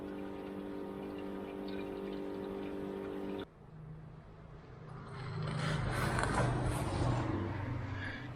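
Water goes into the cooling system of an Austin Healey in a garage. A steady mechanical hum cuts off, then a rising, rushing splash of poured water fills the rest of the clip, close and fairly loud.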